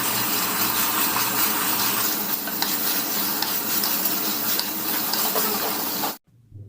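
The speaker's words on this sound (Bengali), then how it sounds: "মশলাটা আদা রসুন নাড়াচাড়া করে একসাথে মিশিয়ে নেব।" Ginger, garlic and spices stir in a hot pan for a chicken leg curry, sending up a steady loud sizzle and hiss with faint scraping that cuts off abruptly just before the end.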